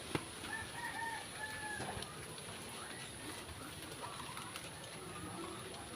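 A rooster crows faintly at a distance, drawn-out calls early on over a quiet outdoor background of rustle and hiss, with softer bird sounds after.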